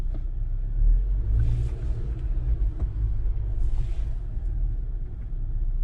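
A 2019 Jeep Wrangler Unlimited with the 2.0 turbo accelerates in 4-wheel drive low, a heavy, close engine rumble that drones steadily with two brief airy surges partway through.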